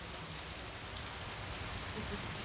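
Steady rain falls in a garden in March, a dense, even hiss of drops on surfaces that continues without a break and carries no talk.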